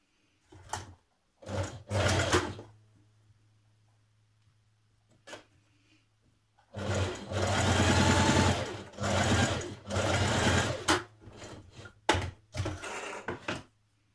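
Short bursts of a sewing machine stitching a pleat on a blouse collar, a few quick runs early, then longer whirring stretches with brief pauses, close and clear with no talking.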